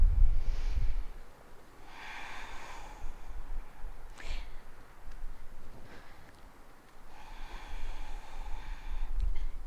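Slow, deep breaths taken during a hip and leg stretching routine, soft airy inhales and exhales spaced a few seconds apart, close to the microphone against a quiet room, with no talking.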